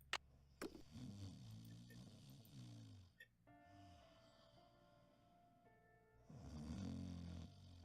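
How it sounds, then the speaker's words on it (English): Video game character Henrik snoring in slow, heavy low rumbles, with a loud snore at the start and again near the end and a quieter stretch with a faint tonal background between. "the beautiful snoring of Henrik."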